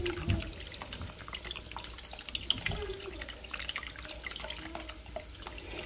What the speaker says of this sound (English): And now I'm going to go ahead and add in our beer.